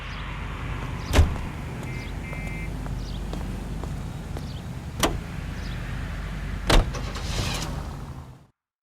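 A car driving in the video game L.A. Noire: a steady low engine hum runs throughout, broken by a few sharp knocks or thumps, before the sound cuts to silence at the end.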